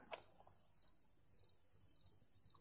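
Crickets chirp in quick, faint, pulsing trills against a quiet background, the insect calls repeating steadily throughout.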